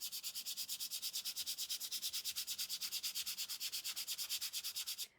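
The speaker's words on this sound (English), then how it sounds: "I'm doing more sanding where the flower is" A craft surface with a debossed flower imprint is hand-sanded lightly, producing about forty quick, even back-and-forth rasps in a steady rhythm, close and alone, ending abruptly.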